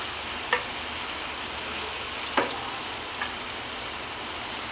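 Masala-coated fish frying in a pan after being flipped, a steady close hiss of hot oil with a few brief sharper crackles and spatters scattered across it, no talking.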